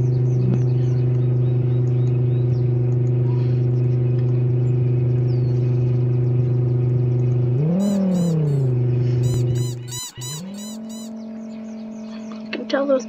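A video game car engine hums steadily at a constant pitch, swells briefly as it revs, then cuts out and resumes at a higher pitch, with game chirps and beeps over it and a voice talking throughout.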